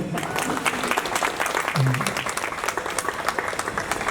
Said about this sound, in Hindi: बजा सकते हैं तालियां